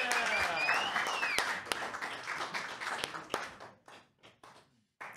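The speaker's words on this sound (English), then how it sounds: "Big round of applause." An audience applauds and cheers at a live comedy podcast taping, a dense wash of clapping that thins into scattered claps before fading.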